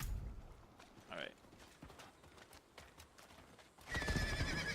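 A horse in Diablo 4 gives a short whinny amid clip-clopping hooves, fairly quiet, before a louder burst of mechanical game effects at the end.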